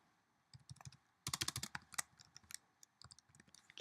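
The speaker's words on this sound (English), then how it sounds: "Sorry, I'm trying to type here." Fingers type on a Mac computer keyboard in irregular bursts of quick key clicks, close but quiet, starting after a brief pause.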